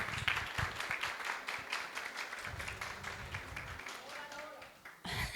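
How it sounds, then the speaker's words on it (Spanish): A conference audience welcomes a speaker with faint, distant applause, a steady patter of many hands clapping that continues for several seconds before tapering off. "la recibimos con un fuerte aplauso"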